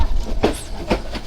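The Burimari Express runs along the rails between Rangpur and Santahar, with two sharp clacks of wheels over rail joints standing out over a steady rolling rumble.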